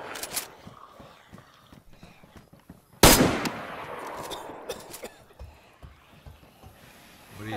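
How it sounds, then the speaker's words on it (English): Gunfire in a zombie video game, a few scattered shots and then one loud blast with a rumbling tail, followed by sparse cracks and light footsteps. "What are you shooting at?"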